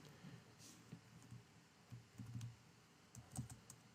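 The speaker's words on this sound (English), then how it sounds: "I can type these in like pi equals" Quiet, close typing on a computer keyboard during a programming lecture, irregular bursts of soft key clicks with short pauses.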